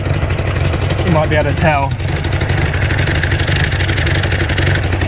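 A cold MGB GT engine idles steadily and loud up close, slightly uneven, with a leaking exhaust gasket adding a puffing hiss; someone talks briefly over the running engine.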